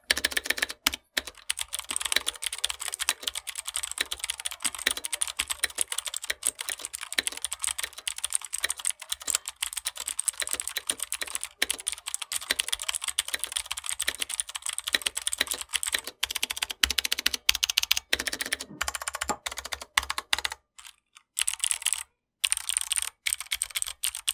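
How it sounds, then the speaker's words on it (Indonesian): Stock Digital Alliance Meca 8X Plus mechanical keyboard being typed on steadily, a rapid close stream of crisp clacky keystrokes with brief pauses near the end, no voices. "gue kasih denger dulu ya typing sound dari keyboard ini dalam kondisi stoknya"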